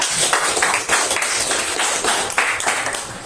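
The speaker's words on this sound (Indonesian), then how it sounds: "Bagus, tepuk tangan ya." A group claps together in a steady burst of hand claps, fairly close and continuous for a few seconds, with no talking over it.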